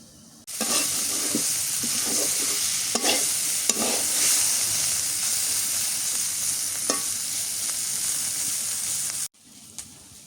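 Vegetable bhaji cooks in a pan over gentle heat in a village kitchen. A bright, continuous sizzle runs with scattered scraping stir strokes, starting abruptly and cutting off near the end.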